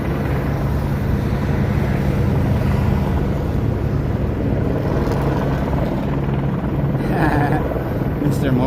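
A helicopter flies overhead, its rotor and engine making a loud, steady, broadband drone that fills the whole clip, with people talking over it.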